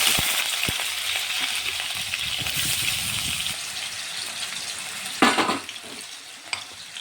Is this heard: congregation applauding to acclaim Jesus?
no